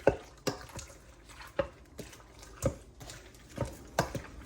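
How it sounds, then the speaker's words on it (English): A beaten egg is stirred and mixed in a bowl, giving a series of soft wet clicks and taps against the bowl at an uneven rhythm, quiet and close with no talking. "we're going to add 1 beaten egg. You're just going to mix it up"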